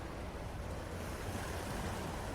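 Ocean waves wash and pound in a continuous, dense shushing roar, steady and fairly loud with no voices.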